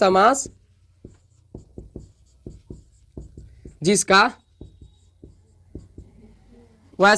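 Pen or chalk strokes writing notes during a Hindi grammar lesson, a series of short, distinct scratching taps in an irregular rhythm, close and clear, with a teacher's voice speaking before and between the strokes.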